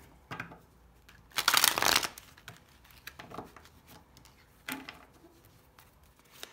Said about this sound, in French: On pose les 5 cartes